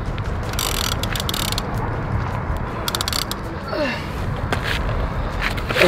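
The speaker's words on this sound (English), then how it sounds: "want to reel up this other line?" Fishing reel ratchet clicking while line is reeled in aboard a boat during shark fishing, fast close clicks over steady wind and engine noise.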